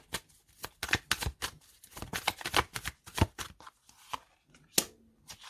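Tarot cards are handled and laid down on a table in a rapid string of crisp flicks, slaps and shuffling snaps, close and fairly loud, with short pauses between bursts.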